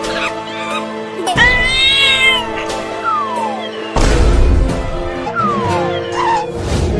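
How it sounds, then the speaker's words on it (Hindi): A kitten meows several times in a lively outdoor comedy scene, its high, rising cries loud and close, mixed with other background noise and a sudden heavier thump partway through. "अरे वो बिल्ली का बच्चा"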